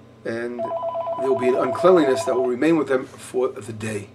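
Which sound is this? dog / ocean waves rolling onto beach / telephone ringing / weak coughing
telephone ringing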